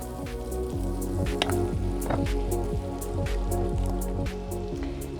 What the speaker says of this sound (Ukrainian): наш порізаний кубіками гарбуз я обсмажу на вершковому маслі на невеликому вогні буквально 5 хвилинок